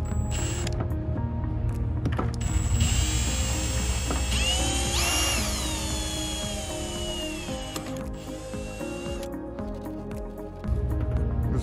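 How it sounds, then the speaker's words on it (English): Power drill boring a hole for a pressure gauge on a solar pool heating system, a steady mechanical whir with a rising whine midway, running alone and close. "So we're going to start by just drilling a hole where we need it."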